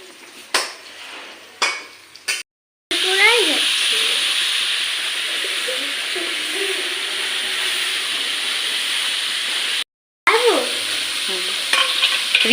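Boiled chowmein and chicken tossed with capsicum, chilli and cabbage stir-fried in a pan, with a steady loud sizzle, scraping of a utensil against the pan, and a few brief clatters near the start.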